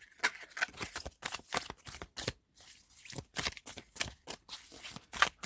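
Tarot cards shuffled and handled in rapid bursts, a dense run of crisp riffling slaps and flicks repeating close up, loud and steady with brief pauses.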